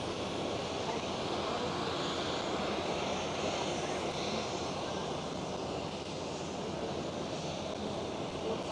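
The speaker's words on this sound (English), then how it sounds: "Yes, there we go. KLM 737-700." A KLM Boeing 737-700 jet at Schiphol, Amsterdam, gives a steady, moderately distant engine roar with hissing jet noise throughout the short stretch.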